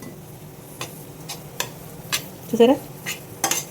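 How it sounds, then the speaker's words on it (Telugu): A hand works mango pickle paste (thokku) together with heated oil, making soft, sparse squelches and light clicks against a quiet background, with a brief spoken word. "ఇదిగోండి, ఇలా మొత్తం అంతా కలిపేసేసుకోండి, ఉండలు లేకుండా"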